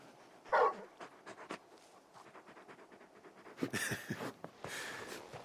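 A large dog in the video game Final Fantasy XVI pants in quick, quiet breaths, with a brief louder whimper early on and soft rustling sounds toward the end.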